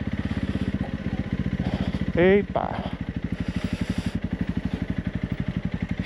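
A Honda CRF 300 Rally motorcycle rides off-road, its engine thumping in a close, rapid, steady pulse throughout, while a rider's voice exclaims briefly over it.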